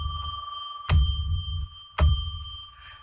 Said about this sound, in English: I'm going to ring a bell 3 times to declare sacred space.